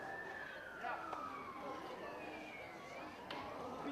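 An ambulance siren wails faintly in the distance during an outdoor boys' varsity soccer game, its falling and rising tone drifting over broad crowd and wind noise.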